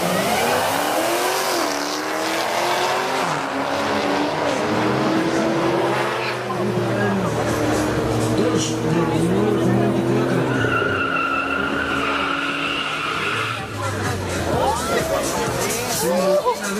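Two drag racing cars, a 300 and an all-wheel-drive Audi TT, launch hard with revving engines and squealing tyres, loud and sustained over a crowd, with a commentator talking throughout.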